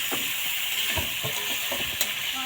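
Salted fish frying in a pan, being stirred, a continuous hiss of hot oil with scattered scraping and clinking strokes, close and fairly loud.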